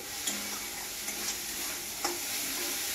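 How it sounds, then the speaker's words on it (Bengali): Vegetables for a tarkari fry in a pan with a steady close sizzle, punctuated by a few light scraping stir strokes from a spatula. "এবারে আমি কিছুক্ষণ ভাজবো।"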